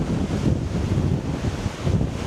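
Strong wind roars steadily into the microphone at a sunny coastline in Cabras, Sardinia, during a cyclocross World Cup outing, a loud, continuous buffeting with surf-like rumble and no voices.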